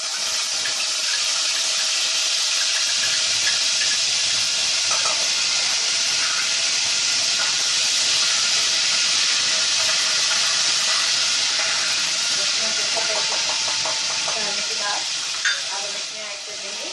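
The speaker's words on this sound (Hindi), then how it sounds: "अब हम इसमें ऐड कर देंगे लहसुन अदरक का पेस्ट" Garlic-ginger paste hits hot oil in a pan with a loud, broad, hissing sizzle that continues steadily for the whole stretch, with faint stirring clicks and no speech.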